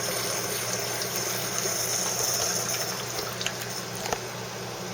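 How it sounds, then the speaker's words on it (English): A Bezzera Strega lever espresso machine runs a cooling flush, a steady rushing gush of water with a constant mechanical hum underneath and a few faint clicks, close and continuous with no talk. "I'm going to pull down the lever to do a cooling flush"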